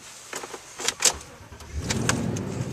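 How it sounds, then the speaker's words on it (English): A 2011 Toyota Tundra pickup pulls away, a few door and handling clunks giving way to a rising low engine rumble as the truck moves off, heard from inside or close by. "we'll take off and we'll go for a quick ride"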